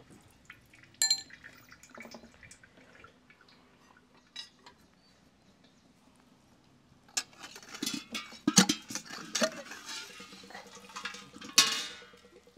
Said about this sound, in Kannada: ಈ ಟ್ಯಾಪಲ್ಲಿ ನಾವು ಎಣ್ಣೆ ತೆಗಿತಾ ಇರ್ತಕ್ಕಂಥದ್ದು